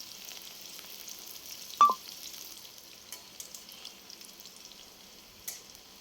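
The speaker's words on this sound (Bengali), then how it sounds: "পেঁয়াজটা আমার একটু ভাজা হয়ে এসেছে" Onions fry in a pan for a snake gourd dish, giving a soft, steady sizzle at low volume, broken by one brief tonal blip and a few faint clicks.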